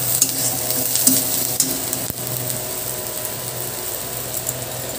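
Pointed gourd and potatoes fry in hot oil, giving a steady close crackling sizzle with occasional scraping stirs throughout.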